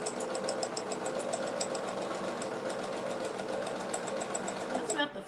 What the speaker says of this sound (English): That's about the fastest I've sewn all night.